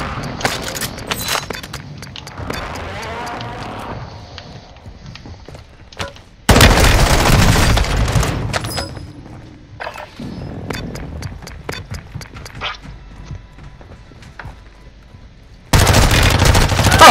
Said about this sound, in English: I'm shooting at his head